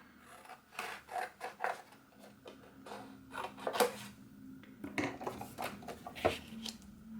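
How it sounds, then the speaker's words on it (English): Scissors snip Just Jade cardstock down to size in a quiet crafting session, a run of short, crisp cuts and papery rustles, close and fairly soft, with no talking. "taking another piece of Just Jade cardstock, which I'm just going to cut down slightly."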